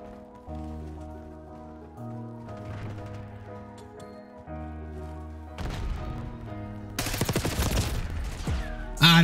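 Gunfire in Call of Duty: Black Ops 6 bursts in a loud, dense rattle near the end, after a quieter stretch of sustained musical tones and scattered thuds.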